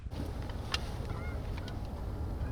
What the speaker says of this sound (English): there's 2 ducks or geese flying in right there